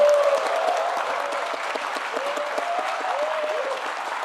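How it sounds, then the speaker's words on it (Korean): A large audience at a government policy presentation event claps and cheers, producing a steady, loud wash of applause throughout. Scattered whistles and vocal shouts rise above it. "아마 기죽지 말라고 이렇게 박수를 쳐주신 것 같습니다"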